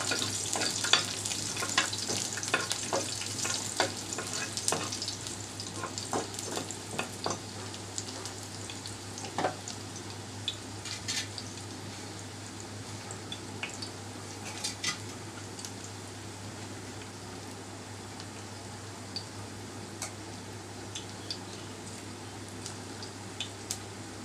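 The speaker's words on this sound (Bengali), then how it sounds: "রসুনগুলো একটু বেজে নিবো" Thin slices of garlic sizzle in oil in a pan, a soft continuous frying hiss with scattered crackles and occasional clinks, steady and close with no voices.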